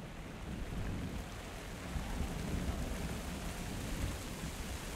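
Steady rain from a thunderstorm in the Minecraft Story Mode video game, a dense broadband hiss holding at an even level throughout with no distinct thunder crack and no voices.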